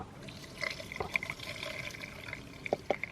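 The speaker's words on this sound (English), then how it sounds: "I'm going to drain off a little bit of the liquid so that my burgers aren't soggy" Liquid draining from cooked sweet potatoes and adzuki beans in a pot, soft trickling and dribbling with scattered small drips and splashes, quiet and close.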